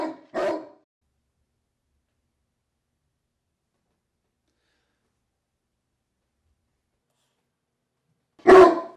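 Two short dog barks or yelps, one at the very start and one near the end, separated by a long stretch of silence.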